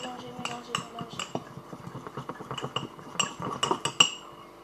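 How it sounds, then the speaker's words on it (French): A spoon clinks and scrapes rapidly against a mug while mixing mug cake batter, a close, quiet run of irregular clicks and taps that grows denser toward the end. "vous mélangez, mélangez, mélangez, mélangez."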